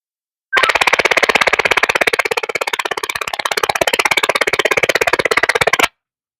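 A harsh, rapidly buzzing DMR digital data burst blares from an FRS radio speaker for about five seconds, then cuts off abruptly.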